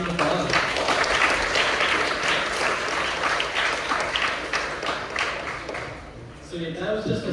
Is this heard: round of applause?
yes